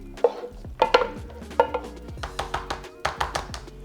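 Tater tot taco casserole mixture going into a pan, a close run of irregular wet taps, clinks and scrapes of utensil against cookware over a few seconds.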